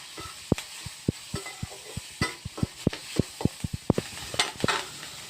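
Crabs being sautéed in a pan for crab rasam: a spatula knocks and scrapes against the pan in a quick, irregular series of sharp taps over a steady close sizzle.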